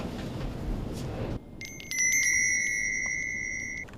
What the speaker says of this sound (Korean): 지금 이게 계속 이렇게 종이 울리고 그렇죠